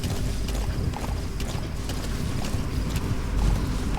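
Horse hooves clop on the ground in the video game Metal Gear Solid V: The Phantom Pain, a busy rhythmic patter mixed with low rumbling and clattering mechanisms, without talk.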